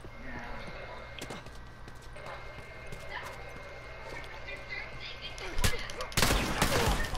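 Enemy gunfire in The Last of Us, where foes shoot during a close fight: scattered faint shots under busy game noise, building to a louder burst of fire near the end, with a voice talking over it.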